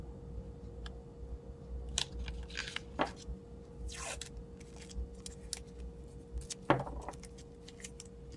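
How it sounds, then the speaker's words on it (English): Scissors trimming paper for a mini explosion box craft: a few separate short snips and crisp rustles spread across a quiet room background. "I'm gonna come back in and trim these off in just a second with my scissors."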